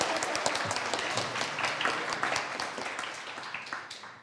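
An audience at an academic talk on co-produced research breaks into steady applause, a dense patter of many hands close by that slowly fades over a few seconds.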